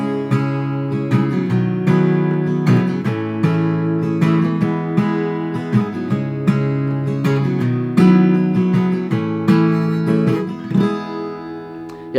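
Strummed acoustic guitar plays a steady chord progression from "Better Days" by Zach Bryan, down-down-up rhythm, clear and close, with no voices.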